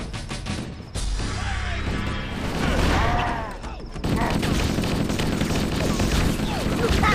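Rapid bursts of automatic gunfire and heavy weapon blasts in Halo: Combat Evolved, loud and sustained with clattering impacts, mixed with battlefield noise and voices talking.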